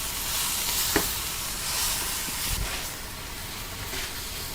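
Chopped siru keerai greens drop into a hot pan of oil for sambar, setting off a steady close sizzle and hiss with a few soft stirring knocks, no voices.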